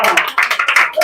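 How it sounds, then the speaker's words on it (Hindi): Students in a classroom clap their hands in a quick burst of about six or seven sharp, loud claps close by, with a voice mixed in. "एक बार ताली बजा"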